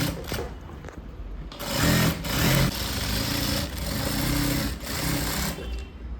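A sewing machine stitches the lining of a blouse in a tailoring class, running in several rapid, close bursts separated by brief slowdowns.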